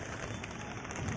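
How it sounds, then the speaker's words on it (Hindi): Rain falls steadily outdoors during cool, windy weather, a faint, brief, even patter on surfaces with no distinct drops standing out. "सारा कुछ पानी बरस रहा है।"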